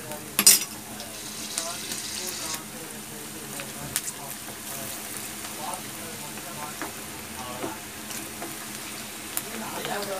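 Ivy gourd (kovakkai) sizzles steadily in hot oil in a kadai, with a dense, even frying hiss and occasional clinks of a stirring utensil close by throughout.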